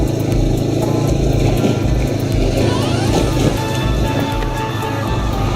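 A motorcycle rides slowly over a damaged rural road between Jambon and Sooko in Ponorogo, its engine rumbling steadily and close, with bumps, rattles and wind noise around the rider.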